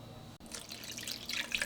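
Salted water poured into a cooking pan for a keto noodle dish, a steady splashing, dripping pour that starts after a brief gap and grows slightly louder and brighter toward the end, close by with no talk.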